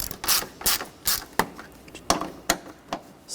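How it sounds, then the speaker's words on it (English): A ratchet wrench tightening the catalytic converter bolts on a Ford Escape: close, sharp ratcheting bursts in an uneven rhythm, about eight quick clicking strokes with short pauses between them, and no talk. "take these bolts, get those started. And we can tighten those down."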